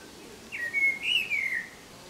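A starling sings a single close, clear whistled phrase on a summer evening, rising and wavering for about a second over quiet outdoor background.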